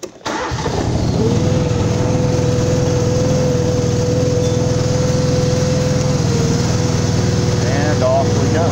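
A riding lawn mower's engine cranks and catches in the first moment at 6 a.m., then settles into a loud, steady, close droning run with an even whine held throughout.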